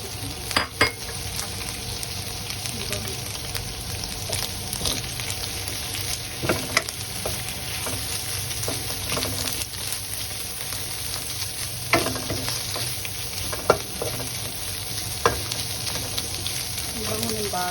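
Carrot pieces added to chicken and butter-softened onion, stir-fried in a pan for spaghetti in white sauce; a steady close sizzle with scraping and clinking stirs throughout, and no talking.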